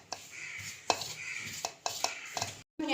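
Dough ingredients being mixed in a bowl, with repeated scraping and clinking strokes of a utensil against the bowl at a steady rhythm, fairly close and quiet.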